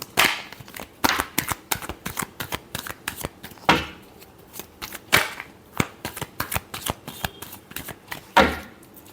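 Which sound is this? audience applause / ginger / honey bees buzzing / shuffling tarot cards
shuffling tarot cards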